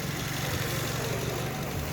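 A car engine idles in a workshop during an engine carbon cleaning job, a steady low droning rumble with a constant hum and no variation over two seconds.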